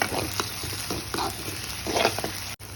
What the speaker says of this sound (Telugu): కొంచెం అల్లం పేస్ట్ వేసుకొని ఇలా ఫ్రై చేసుకోండి